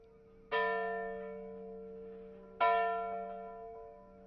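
A single deep, hollow hour bell tolls once, then a second strike follows about two seconds later, each ringing out with a long, slowly fading hum, alone and without speech, in a Christmas Carol radio drama.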